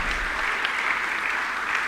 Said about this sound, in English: Let's start clapping for all of them.